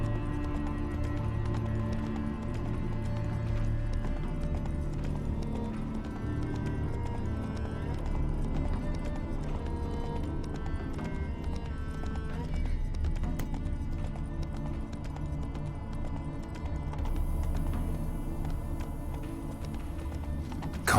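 Hooves of Roach, a horse in the video game The Witcher 3, clop in a steady running rhythm, close and continuous over a bed of game music and ambience.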